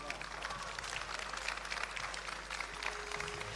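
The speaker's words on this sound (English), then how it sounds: "Let's all put your hands together for ITP Media team" An event audience at the iGen Design Forum claps for the ITP Media team. Dense, steady applause fills the short stretch at close, even volume with no break.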